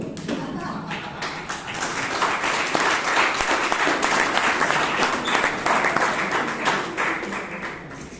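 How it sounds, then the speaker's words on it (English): A Toastmasters meeting audience in Bangalore applauds steadily and fairly loudly for the full stretch, many hands clapping at once in a dense, unbroken patter. "Another round of applause for DTM."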